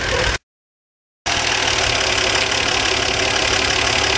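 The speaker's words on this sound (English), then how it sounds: "Sound of a manual reverse." A 1977 Dodge van with a slant six engine runs steadily in manual reverse, a close, loud, rough mechanical drone that cuts out briefly near the start before resuming.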